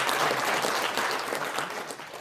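A crowd at a rally in the large conference hall of a National Assembly members' building bursts into dense, loud applause that holds steady, then tapers slightly toward the end.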